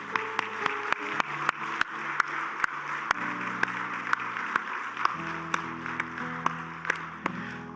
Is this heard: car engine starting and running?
no